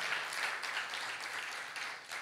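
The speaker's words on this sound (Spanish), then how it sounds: "Y se le va a dar un aplauso, entonces déselo bien fuerte al Señor" Congregation at a Christian church service applauding loudly for the Lord, a dense, steady wash of many hands clapping at close range, holding at an even level throughout with no voices standing out.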